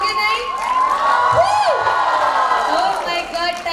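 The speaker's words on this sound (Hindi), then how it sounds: "कम ऑन एवरीवन, एक बार जोरदार तालियां हो जाए मैम के लिए" A seminar audience claps and cheers loudly for someone speaker, with whoops and high shouted voices rising over a continuous crowd roar.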